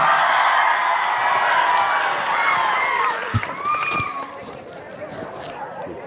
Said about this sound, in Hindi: जोरदार तालियों से स्वागत कर दीजिए अमन जी का।